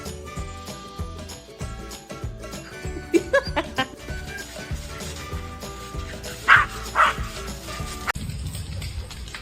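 A blue heeler dog gives several short yips and barks over busy background music, with a louder pair of barks near the end before the music cuts off.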